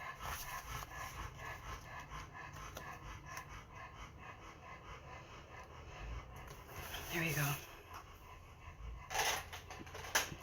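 Steady, rapid panting from a nearby dog runs throughout, with someone speaking briefly over it and a few shuffling bumps.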